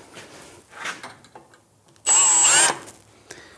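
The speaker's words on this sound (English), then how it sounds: "now that we have it laying flat, it's gonna be a lot easier to drill and tap" A power drill bores into a metal part for a universal spare tire carrier kit, a loud steady whine for under a second that cuts in abruptly and stops, between quieter handling noises.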